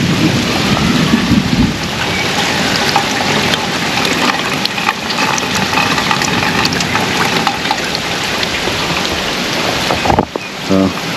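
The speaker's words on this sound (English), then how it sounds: "I don't think it's gonna rain long though." Rain falls steadily on a backyard during a heavy wind day, with water running off a small lip. The broad, dense wash of noise is fairly loud and continuous, with a brief change near the end.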